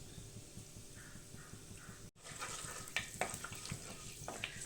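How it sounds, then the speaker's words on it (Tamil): Fenugreek seeds fry in hot oil for a fish kulambu, making a faint, close, continuous sizzle. A brief gap comes partway through, and then the sizzle returns with scattered light crackles and pops and no talking. "எண்ணெய் சூடாகிடுச்சு நம்ம வந்து ஒரு அரை டீஸ்பூன் அளவுக்கு வெந்தயம் சேர்த்துக்கலாம் வெந்தயம் வந்து கொஞ்சம் செவக்கட்டும்"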